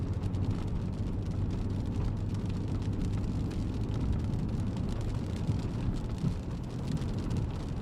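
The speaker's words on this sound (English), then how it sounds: "Getting your mail to you in the middle of thunderstorm warning." Steady rain falls during a severe thunderstorm warning near Coal City, Illinois, a continuous even hiss over a low rumble that lasts the whole stretch, with no voices.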